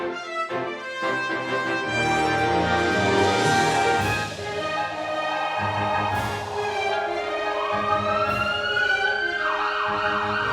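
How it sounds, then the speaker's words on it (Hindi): Several ambulance sirens wail loudly and overlap, their rising and falling tones layered as a line of vehicles passes close by, with no talk over them. "ये तो देख रहा हूँ एम्बुलेंस की लाइन लग गई है"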